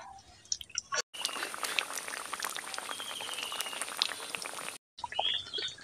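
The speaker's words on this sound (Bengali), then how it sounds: "এখন কিছুটা দিয়েছি, ওগুলোকে নাড়াচাড়া করে ভেজে নেব" Salty biscuits bubble and fry in oil that is only moderately hot, giving a dense, continuous crackle and fizz. Sharp breaks in the sound come at the start and near the end.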